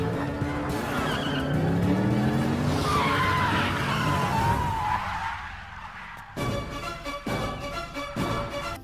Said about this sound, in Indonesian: Dan cuma dengan satu peluru, orang ini bisa bikin mobil jeep guling loh.